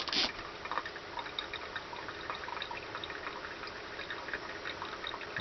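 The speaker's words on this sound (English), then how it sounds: "And it's slowly pouring into my cup." Liquid, likely coffee from an off-grid camping setup, trickles slowly into a cup with a soft continuous splashing and faint dripping, quiet and close, without talk.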